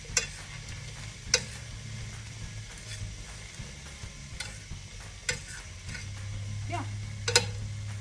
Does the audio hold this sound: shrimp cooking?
yes